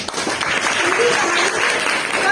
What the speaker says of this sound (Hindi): ताली बजाओ इसके लिए।